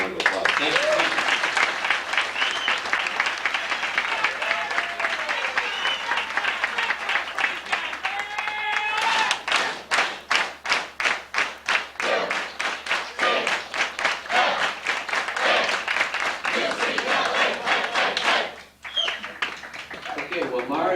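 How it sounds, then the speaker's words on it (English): Breakfast crowd at a UCLA football gathering breaks into loud rhythmic applause after someone talks, the clapping building into a sustained burst before fading. "I think we should give both these guys a good round of applause"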